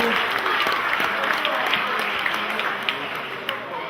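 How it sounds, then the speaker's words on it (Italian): Applause from a dinner audience for the cooks and waiters serving the meal, a dense steady wash of many hands clapping continuously throughout, fairly close and full, with no talk over it. "Un applauso."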